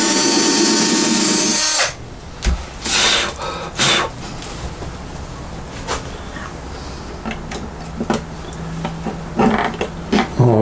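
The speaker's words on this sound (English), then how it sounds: "I'm going to drill straight down through it" A power drill whines loudly straight down through the wood of a bajo quinto guitar for a couple of seconds, then stops, followed by scattered knocks and handling sounds.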